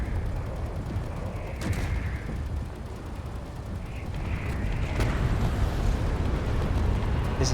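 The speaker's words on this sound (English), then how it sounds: "My cannons are down, I just ram." In the Space Engineers video game, a spaceship rams an enemy ship with a loud, continuous rumbling roar, punctuated by creaking metallic strains and a few sharper impacts.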